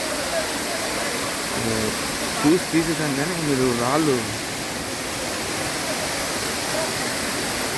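A constant rushing roar of falling water at Jhari Waterfalls fills the scene while a person speaks over it for a few seconds.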